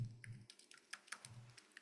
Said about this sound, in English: you could start with typing in visibility